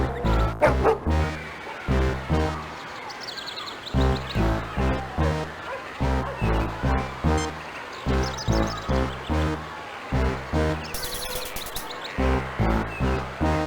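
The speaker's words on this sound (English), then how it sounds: "The dog is now hungrily eating its meal." In the video game Star Trek: Judgment Rites, a dog hungrily eats its meal, heard as a long run of rhythmic, evenly spaced yipping chomps repeated for over ten seconds.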